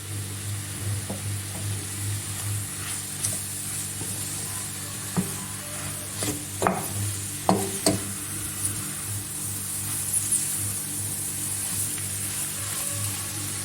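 Collard greens sautéing with onion and bulgur in a hot pan give a steady, close sizzle, broken by occasional scraping stirs and clinks.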